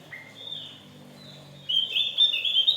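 A Javan grey-throated white-eye (opior) chirps from close by, starting with a few thin high notes that break into a louder, busier burst of twittering song toward the end, with a low background hum.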